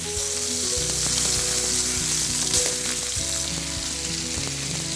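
Steady, loud sizzling of a scallop searing in butter in a hot skillet, a continuous crackling hiss with no voices.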